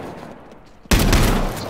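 A single loud, close shotgun blast in the battle royale game H1Z1, a sudden burst after a quiet, hissy lead-in, with a short ringing tail.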